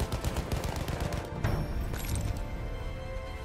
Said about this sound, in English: What's this guy shooting at?